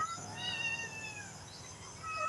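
Faint, thin meows from a white-and-grey cat inside a house in the cool morning after rain, a few short, high cries under steady background noise.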